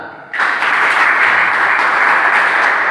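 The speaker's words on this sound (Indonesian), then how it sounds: "Tepuk tangan." A class of students in a religious education lesson bursts into loud, dense applause that starts abruptly and holds steady for several seconds.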